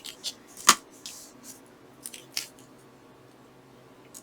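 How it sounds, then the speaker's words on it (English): Scissors snip through a strip of washi tape during a paper craft project, giving one sharp crisp cut followed by a few lighter snips and rustles, close and quiet, with no voices. "I'm just going to cut this one off straight."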